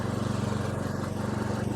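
ATCO GT 30H ride-on mower with a Stiga 450cc engine running at a steady, throbbing idle close by, no talking.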